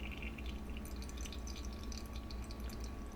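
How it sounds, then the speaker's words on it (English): Concentrated coffee drains through a strainer with a steady trickle and faint dripping, continuous and close, with no talking. "So you can hear that draining in there."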